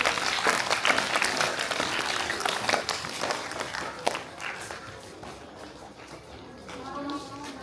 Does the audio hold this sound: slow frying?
no